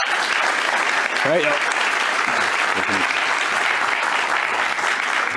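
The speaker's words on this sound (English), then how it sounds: "can we just give the panel a round of applause?" An audience applauds a conference panel on AI in production, steady loud clapping throughout, with a brief spoken remark from a man partway through.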